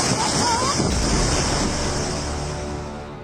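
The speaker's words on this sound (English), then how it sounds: "with large waves continuously battering them" Roaring storm waves and wind batter North Sea oil rigs, a dense loud wash of surf and gusting noise that slowly eases toward the end.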